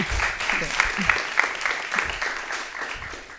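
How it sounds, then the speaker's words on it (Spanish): Applause breaks out for a third-place finish at an awards ceremony, a steady patter of clapping hands with a few sharper claps, moderately loud and fairly close, with voices murmuring underneath. "Un aplauso, en tercer lugar"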